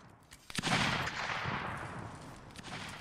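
A volley of musket fire from the Napoleonic Wars battle game erupts at once, close and loud, then rolls off into a long fading rumble of scattered distant shots.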